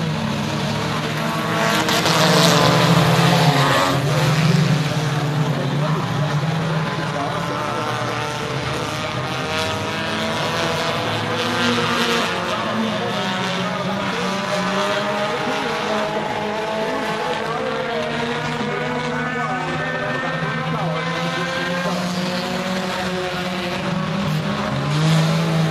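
U-CAR race cars roaring around the oval at Friendship Motor Speedway, engines rising and falling in pitch as the pack passes, loud and continuous for the full stretch with a dense, droning mix of motors.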